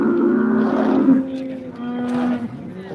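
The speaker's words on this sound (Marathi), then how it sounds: "म्हैस एक आलेले बघा म्हैस इतकी आवर आहे" An agitated water buffalo at a busy cattle market in Modnimb gives a long, loud, low moo that wavers and falls, then a second fainter call, heard close with no talk.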